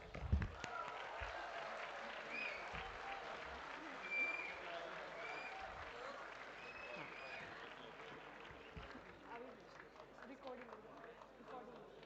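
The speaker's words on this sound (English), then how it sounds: "And clap for yourself." Steady applause from a large audience at a university convocation, many hands clapping continuously for about twelve seconds at a moderate distance, with faint voices mixed in.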